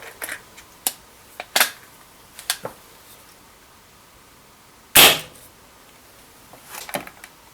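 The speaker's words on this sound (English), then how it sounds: "now I've loaded up the shell fully with 6 rounds" BB rounds are pushed one by one into a Mad Max Contender shell, making sharp, crisp clicks at an irregular pace. One louder snap stands out in the middle, set against a quiet background.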